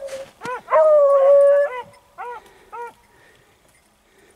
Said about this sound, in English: That's Banjo barking right there.